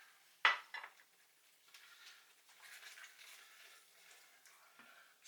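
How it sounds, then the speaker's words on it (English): A utensil scrapes and clinks against a pan as chopped birdeye chili is stirred into a prawn curry with peas, with one sharp knock at the start and then soft scraping over a quiet sizzle. "Stir that in, let it cook"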